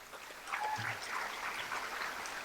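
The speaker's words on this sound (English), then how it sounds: "So a big round of applause for our very own Alex Freed." Faint applause rises from a college campus audience at a business talk, a soft, diffuse patter of clapping heard from a distance that swells slightly and holds steady.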